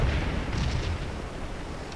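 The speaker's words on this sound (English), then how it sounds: "Ah, that's canister." Canister artillery fire in the Scourge of War video game booms as one heavy rumbling blast that fades into a rolling roar, with no talking.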